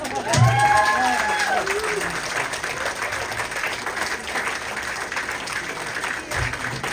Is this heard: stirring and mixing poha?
no